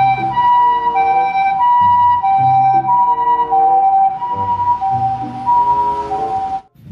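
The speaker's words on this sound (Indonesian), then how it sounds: "Mobil ambulan, teman-teman." A toy ambulance siren wails in a steady electronic two-tone pattern, loud and close, cycling repeatedly before cutting off abruptly at the end.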